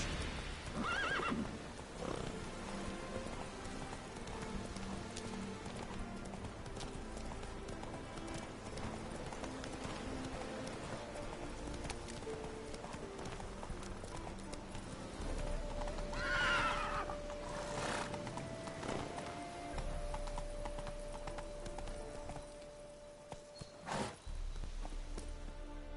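Roach the horse gallops and neighs in a video game, with a continuous drumming of hooves under game music and a loud whinny partway through, close and steady.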